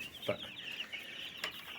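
Constant high-pitched peeping of many young chicks in a brooder heated by carbon cable fills the space, a dense steady chorus with a couple of brief sharper chirps rising above it.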